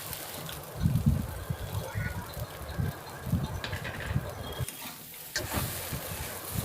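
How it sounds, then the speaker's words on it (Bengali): Soybean curry gets stirred in a pot after salt is added, soft scraping and bubbling stir sounds in irregular bursts, fairly quiet and close, with faint background noise. "নুন দেওয়া হয়ে যাওয়ার পর একটুখানি নাড়িয়ে নেবে"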